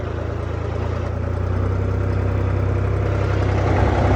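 A Ford 3630 tractor engine runs at a steady, loud idle with a constant low throbbing rumble and no change in pace.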